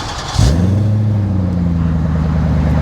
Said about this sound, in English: Rumbly exhaust.